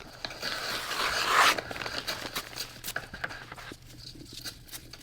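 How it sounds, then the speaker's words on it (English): Sheets of newspaper are torn by hand into rough-edged pieces, giving close, dry ripping and crinkling bursts, loudest in a long tear near the start, then quieter rustles and small rips. "Take the newspaper and tear it into pieces."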